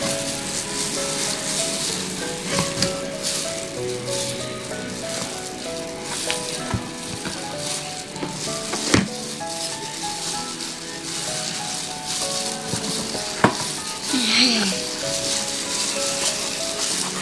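Chicken pieces frying in hot oil, a steady busy sizzle and crackle with occasional sharper pops, fairly close and continuous throughout.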